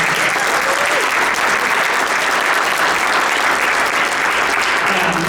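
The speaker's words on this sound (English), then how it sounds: "Can we give them a big round of applause" Loud, sustained applause from a crowd for Illinois Secretary of State candidates at a forum held in a hotel, a dense wash of clapping throughout with faint voices mixed in.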